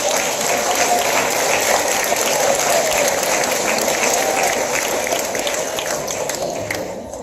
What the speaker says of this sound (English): I think it's time for you students to give yourselves a round of applause